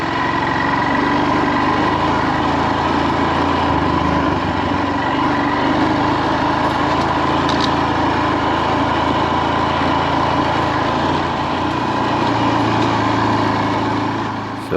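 A motorcycle engine runs steadily for the whole stretch, a close, loud, even drone with no change in pace and no voices.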